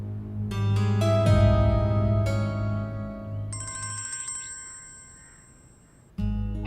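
A phone ringtone for an incoming call, a bright repeating melodic chime that rings loudly and alone for several seconds before cutting off.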